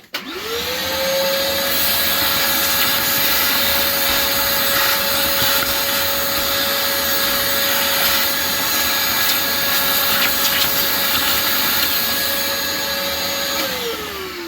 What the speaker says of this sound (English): Sorry, I have to vacuum for a second.